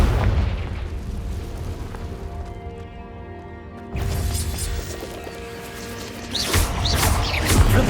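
Confringo fire spell in the video game Hogwarts Legacy: a heavy explosive blast and rumble with mechanical clatter, easing briefly before fresh loud bursts return near the end.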